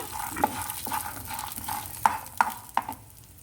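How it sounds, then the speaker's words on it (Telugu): Green chilies fry in a pan for peanut chutney, a soft sizzle running under several sharp scrapes and taps of a spoon stirring against the metal, close by and without talk. "పచ్చిమిర్చి కూడా కొద్దిగా ఫ్రై అయిన తర్వాత"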